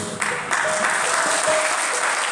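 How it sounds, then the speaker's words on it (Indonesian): Congregation applauding during a Sunday morning service at a Pentecostal church in Pontianak, a steady, dense wash of clapping from many hands filling the room throughout. "Kurang keras tepuk tangannya, jangan tepuk tangan untuk saya, tepuk tangan untuk Tuhan."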